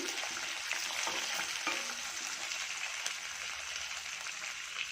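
Chopped onions fry in a pan with a continuous, moderately loud sizzle like light rain, steady and close, with no voices.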